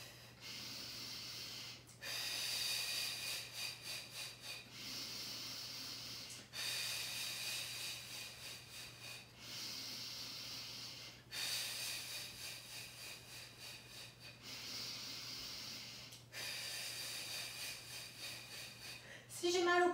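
Deep, slow breaths during a Pilates exercise: long hissing inhales and exhales alternating in a steady rhythm, close and fairly soft, with brief gaps between each breath.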